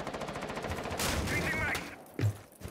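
Rapid gunfire in the video game Rainbow Six Siege, a burst of automatic shots for about a second followed by a couple of sharper single blasts, loud and close.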